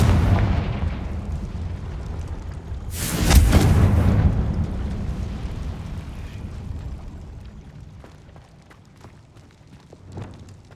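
A Confringo blasting spell explodes in Hogwarts Legacy with a sudden loud burst that rumbles and slowly fades over game ambience, followed by a smaller thump near the end.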